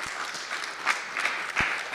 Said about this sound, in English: I think we can clap for that